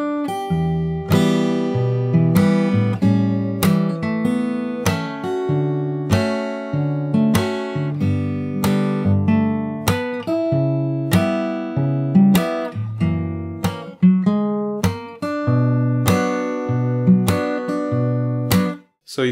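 Fingerstyle guitar plays the first verse of a jazz standard, a steady run of plucked melody notes over bass and chords, close and clear with no talking, ending in a brief stop.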